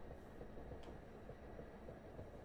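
Train in a South London Network railway simulator game coasting, a quiet low rumble of wheels on track with faint soft clicks and a brief high squeal, no voices.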